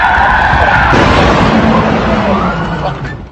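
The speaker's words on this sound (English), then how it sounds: "And then the driver hits the gas as Anwar clings to the door." Car tires skidding loudly as the car is stolen and the driver hits the gas, a sustained harsh screech with engine roar that slowly fades.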